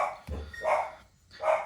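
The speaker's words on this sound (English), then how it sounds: "sorry about the dogs." Dogs bark close by indoors, two sharp barks about a second apart in a quiet room, with no speech.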